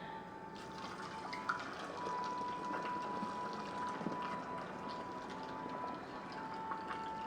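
Turmeric chai tea is poured through a funnel, giving a soft, steady trickle of liquid with faint drips, quiet and close, with no one talking.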